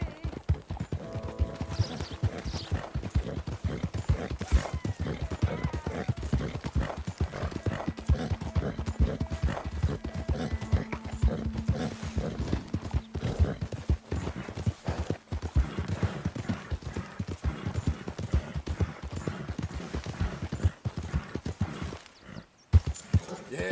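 Horse hooves clip-clop at a steady walking rhythm in Red Dead Redemption 2, a continuous close series of hollow knocks with an occasional whinny, while voices talk intermittently over it.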